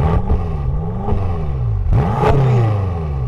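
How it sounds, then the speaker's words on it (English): A 2018 BMW M6 Gran Coupe engine revved a couple of times while parked, loud close blips rising and falling with a sharper final rev and mechanical whir between. "Let's give her a couple revs."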